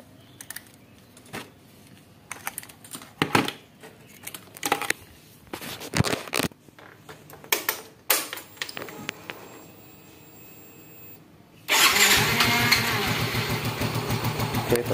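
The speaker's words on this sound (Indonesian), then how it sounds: "coba saya hidupkan dulu motornya" A Yamaha Mio M3 scooter motorcycle with a balky engine cranks over after scattered clicks and knocks of handling nearby, then catches and settles into a loud, steady idle close by with no talking.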